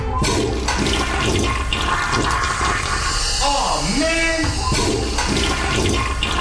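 A toilet flushes with a loud rushing swirl of water that runs almost continuously, with a brief spoken exclamation and a swooping sound effect partway through.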